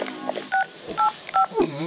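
Three short electronic dial-tone beeps sound in a Disney Mickey video game, each a clean two-tone chirp spaced about half a second apart, followed by a brief ringing blip; the beeps are loud and close with no talk over them.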